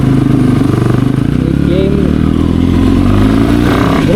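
A motorbike carries two riders on the road from Bangalore toward a waterfall near Vagamon in Kerala, its engine droning steadily and loud up close throughout, with wind rumble and rattling clatter mixed in.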